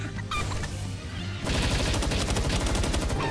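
Rapid gunfire in Palworld during a boss fight, starting as scattered shots then turning into a dense, steady burst of fast repeated shots that fills the rest of the moment, loud and close.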